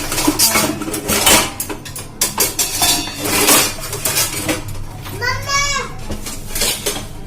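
Metal pots, pans and a pressure cooker clatter and clank together in a basket, with a voice and other chatter in the background.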